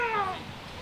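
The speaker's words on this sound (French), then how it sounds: "Grisaille, son chat, me saute dessus en miaulant comme si sa vie dépendait de moi" A cat lets out one close, drawn-out meow that slides downward and fades, sounding urgent and insistent, alone with no voices.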